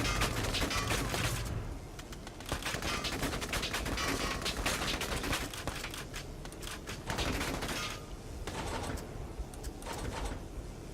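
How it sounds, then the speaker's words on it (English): Gunfire in the video game Valkyria Chronicles 4, dense bursts of rapid shots and mechanical clatter filling the scene, loud and continuous with brief lulls between volleys. "Shots fired!"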